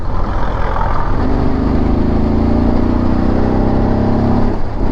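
A BMW F850 GS twin-cylinder adventure motorcycle accelerating hard, its engine note steady and loud, rising gradually in pitch throughout without any voices.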